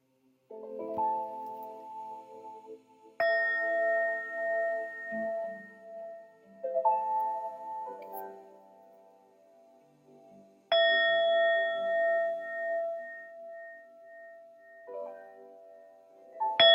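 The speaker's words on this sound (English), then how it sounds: "nice ambient music going, relaxing, so I can tune in to the energies" Ambient relaxation music built on bell-like chimes, with clear struck ding tones at intervals ringing out and decaying over a soft sustained bed of harmonic pads, calm and steady throughout.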